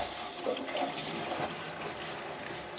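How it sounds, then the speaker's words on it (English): Water runs steadily from a tap into a sink above a newly fixed P-trap, a continuous close rushing and splashing that stays even throughout. "So the water's running right now"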